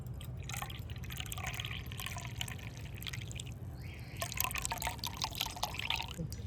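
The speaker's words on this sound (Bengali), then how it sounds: "এবার এই টনিকটা এইভাবে ছেঁকে নেব।" Herbal hair tonic, just boiled, is strained through a sieve, giving faint, quiet trickling and dripping of liquid with a few louder splashes toward the end.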